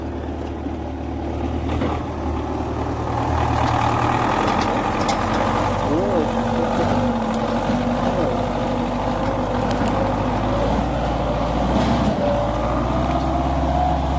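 An MTZ-82 tractor pulling a Kverneland plough during spring ploughing, its diesel engine droning steadily and loud throughout with a low rumble, with a voice talking over it.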